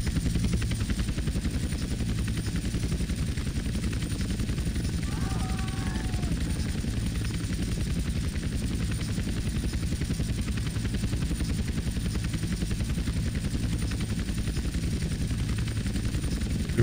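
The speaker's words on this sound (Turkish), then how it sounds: "Helikopter yükselirken" A helicopter rises in the video game GTA San Andreas, its loud, steady rotor chop and engine drone filling the whole span without pause.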